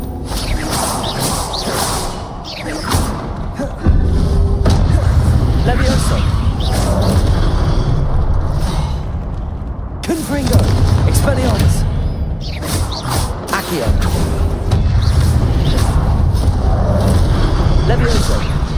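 Confringo spell blasts from Hogwarts Legacy combat hit in repeated booming whooshes, close and loud, under a constant excited voice.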